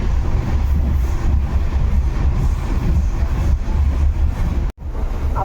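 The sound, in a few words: passenger train running, Sikkim Mahananda Express general class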